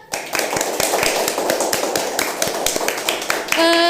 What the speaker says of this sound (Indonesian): Boleh beri tepuk tangan dulu teman-teman.